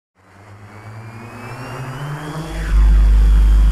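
Motors of a Quanum Venture drone spin up for takeoff and a hover test, a rising whine with steady harmonic hum that grows louder and stays close, ending in a loud sustained buzz.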